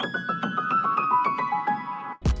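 A dry, plucky synth melody of short repeated notes with clear harmonics, steady rhythm, ending with a brief thump and noise burst.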